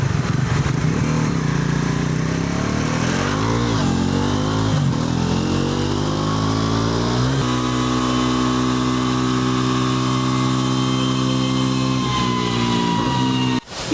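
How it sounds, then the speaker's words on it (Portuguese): Bajaj motorcycle on a factory dynamometer test, engine loud and close, revving up and down through rising and falling pitches before holding a high steady drone. "onde a motocicleta é testada, passa no dinamômetro, em diversos testes"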